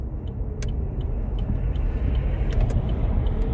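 An electric car driving, heard from inside the cabin: a steady low road rumble with faint ticks and clicks on top, continuous throughout and with no one talking.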